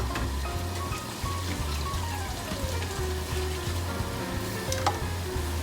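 Steady crackling sizzle of pork frying on a hot grill pan, continuous and close, with a low rhythmic hum underneath.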